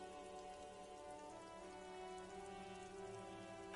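Rain falls in the Disco Elysium video game over water, a faint, steady patter of drops on surfaces that continues evenly with no voices.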